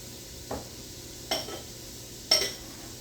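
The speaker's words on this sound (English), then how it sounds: "You're gonna let that saute maybe about 2-3 minutes" Green peppers and onions sauté in a pan over a faint steady sizzle, with three separate brief scraping stirs spaced about a second apart. There is no speech.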